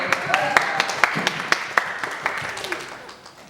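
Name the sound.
applause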